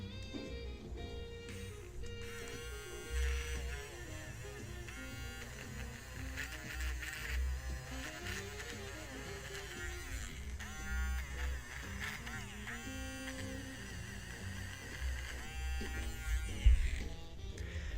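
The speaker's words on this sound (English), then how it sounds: "Sorry for the grating sound, but I just need to erase" Electric eraser buzzing against paper during a live portrait drawing, a faint continuous whir that starts and stops in short bursts with soft background music.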